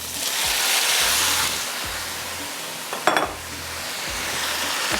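Beef and potatoes sizzle in a hot pot for a beef pulao with salt and tomato, giving a steady loud hiss with low bumps and a brief scraping clatter midway.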